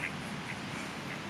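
A duck quacks a few times in short, evenly spaced calls, fairly faint and somewhat distant over a soft outdoor background.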